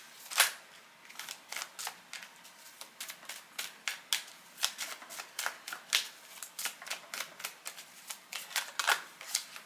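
Tarot cards being shuffled and drawn, a steady run of crisp, close papery flicks and snaps repeating every half second or so for about ten seconds, with no talking.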